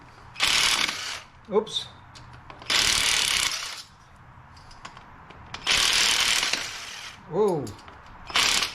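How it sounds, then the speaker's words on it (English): Ratchet clicking while removing bolts from a Harley-Davidson Street Glide being prepped for powder coating, in three loud bursts of rapid close clicks, with a brief exclaimed voice and small metallic clinks between. "let me put it on the ratchet"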